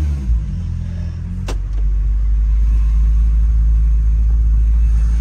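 Peugeot 308 engine driving on the road, a steady loud low rumble throughout with a brief sharp click early on, no voices.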